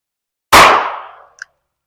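A single loud, sharp long-rifle gunshot cracks at an outdoor shooting range, decaying over about a second, followed by a faint small metallic clink.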